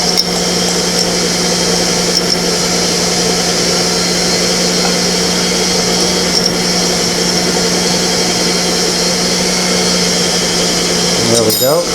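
Baguette dough with yeast churning in a stand mixer, a loud steady motor whine and hum running continuously with a faint rhythmic knocking, a short clatter near the end.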